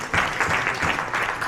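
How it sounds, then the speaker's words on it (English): Audience applause at a position paper release event, a steady wash of clapping with slight swells over a short stretch. "I think we should have a big round of applause for all of them."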